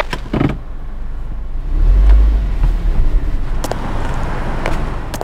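A car rolls up to a drive-thru window, its engine swelling in a low rumble midway before easing off, with a few sharp knocks and clicks around it.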